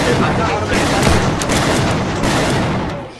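Gunfire in Age of Wonders 4 combat: a dense, loud, continuous volley of shots that fills the whole moment without letup.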